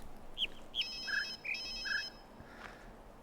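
Telephone ringing inside a video puzzle game: a few bright electronic ring tones in short bursts, with chirpy birdsong-like blips before and between them, fairly faint and with no voices.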